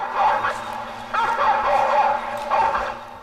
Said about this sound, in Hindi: आसमान में गूंजती ये भौंकने की आवाज इसी ड्रोन से आ रही है।